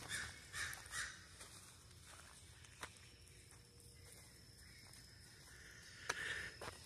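Blackbirds cawing around a campsite with water in sight, a few harsh calls spaced out over several seconds, faint and somewhat distant against a quiet outdoor background.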